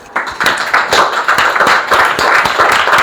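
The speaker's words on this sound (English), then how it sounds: "Give them a big round of applause" A school audience applauding Grade 8 students, loud dense clapping from many hands close by, sustained for the whole stretch.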